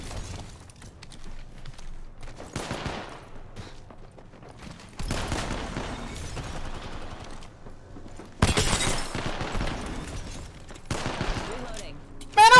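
Gunfire in Apex Legends, sharp bursts of rapid shots arriving in separate volleys that grow louder toward the end, with sounds of impact and breaking in between and a voice talking at times.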